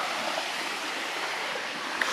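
Stream water at a mountain bathing spot on a Narakkadu family hill trip, heard as a steady, broad rushing wash of flowing water with no breaks, moderately close and without voices.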